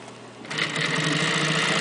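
A bag edge sealing machine with a binder sews around the corner of a bag, its rapid mechanical stitching chatter starting abruptly after a short quiet lead-in and then running loud and steady.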